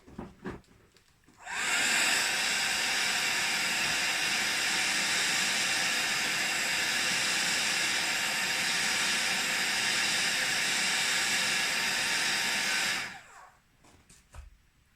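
A hair dryer blows on craft card from the back, starting abruptly and holding a loud, steady roaring hiss for about eleven seconds before it cuts off, with faint handling noises around it.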